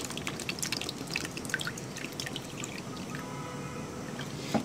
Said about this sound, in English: I don't fill up the tank completely, I just fill it to the half level.